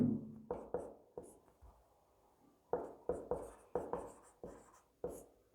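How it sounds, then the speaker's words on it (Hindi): Writing on a board during a chemistry lesson: clusters of short, crisp strokes and taps, close and distinct, with pauses between bursts and no talking. "यहाँ पर लिखेंगे वेग नियम"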